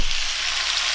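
Half a kilo of beef mince frying in hot oil in a saucepan, a loud, close, steady sizzle with a brief crackle at the start.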